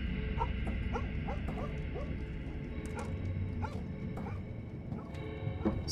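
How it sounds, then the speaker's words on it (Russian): A dog barking and yipping in the horror video game Fears to Fathom: Home Alone, a run of short, muffled barks at medium distance over a low background hum. "Собака начала гавкать."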